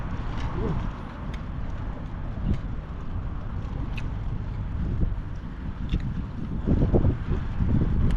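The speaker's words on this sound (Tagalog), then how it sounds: "Yung hangin." Steady wind buffets the microphone with low rumbling gusts, punctuated by a few faint clicks and knocks; no voices heard.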